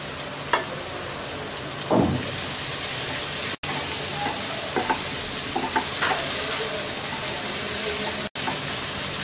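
Thinly sliced tomatoes and chopped green chillies fry in a pan for an egg masala curry, a soft continuous sizzle broken by a few scrapes and clinks of a spoon stirring.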